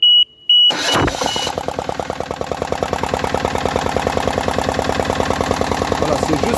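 A faint beep sounds before the small engine of a type 450 vibrating plate compactor cranks and catches, then settles into a loud, steady rapid chugging idle close by.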